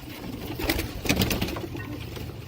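Dub wale (tailed) pigeons coo softly on a rooftop in a brief run of low, throaty, bubbling calls, close by with a faint hum in the background.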